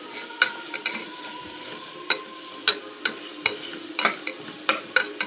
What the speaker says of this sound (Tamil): அரைச்ச வெங்காயம், சின்ன வெங்காயம், அரைச்ச வெங்காயம்லாம் போட்டு நல்லா வதக்கிட்டுருக்கேன்.